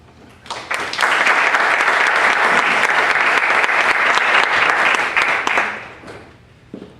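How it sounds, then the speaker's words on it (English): A crowd gives a sustained round of applause for a charity team crossing the finish line at a veterans' fundraising ceremony, the clapping swelling loud and dense for about five seconds before fading. "Team 185 has crossed the finish line, so please let's give them a round of applause"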